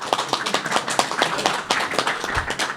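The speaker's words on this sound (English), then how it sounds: "that was supposed to be applause" The small audience at a motorsport Christmas quiz claps sparsely, with distinct individual hand claps in a loose, uneven rhythm over a few seconds and no voices.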